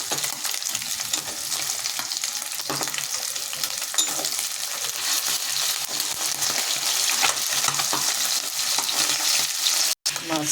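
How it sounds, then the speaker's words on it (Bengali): Fish sizzling in hot oil in a wok, a continuous bright crackle and spatter up close with occasional sharper pops, steady throughout and free of talk. "কড়াইটা গরম হচ্ছে, এখন আমি মাছগুলো দিয়ে দিলাম"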